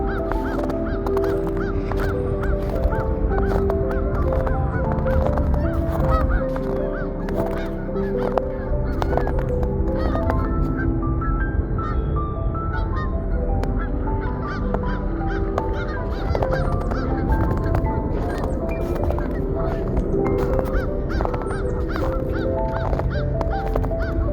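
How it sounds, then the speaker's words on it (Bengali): Thousands of swans crowd the ponds of snowy New York in winter, a dense, unbroken chorus of loud honking calls overlapping throughout. "এখানে হাজার হাজার রাজহাঁস বিভিন্ন জলাশয়ে দেখা যায়"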